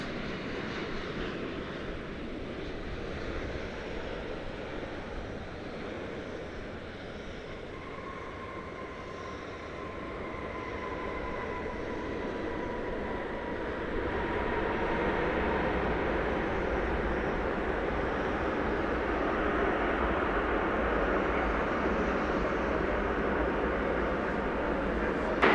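Arriving airliner on the flight in from Honolulu at DFW Airport, a continuous jet engine rumble with a whining tone that builds gradually and stays loud toward the end.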